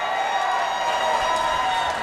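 A crowd at an NEF mixed martial arts event cheering and applauding for new bantamweight champion Nick Eldridge, a steady dense roar of cheers and clapping filling the short moment.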